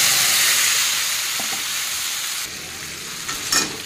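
Spices, green chili and ginger paste sizzle loudly in a hot pan for a vegetarian taro-leaf (kochur shak) dish, a dense, steady frying hiss that dips briefly and then flares up again with stirring near the end.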